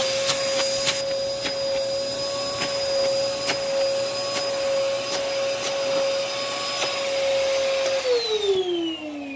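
A vacuum cleaner with dirty filters and a bad brush roll runs steadily at close range with a loud whine and rushing air, joined by faint rattles, and the motor pitch sags near the end as it spools down.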